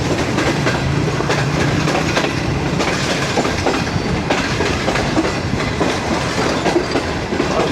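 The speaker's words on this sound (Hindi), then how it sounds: "34 down park business express approach कर रही है ड्रेग रोड जंक्शन पे।" Pak Business Express train rolling on rails near Drigh Road Junction, Karachi: a continuous loud rumble with rhythmic clickety-clack of wheels over rail joints, steady throughout with no voices.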